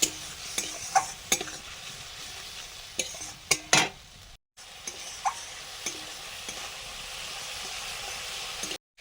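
Chili powder and water stirred into a ginger and cumin spice paste in a hot pan, a steady hiss of frying with scraping stir strokes and a brief pause midway.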